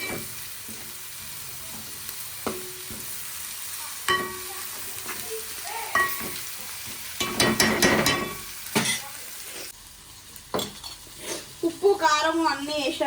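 Spiced gravy sizzles in a frying pan as a spoon stirs it, with scraping and metallic clinks against the pan at irregular intervals; someone speaks intermittently over the cooking.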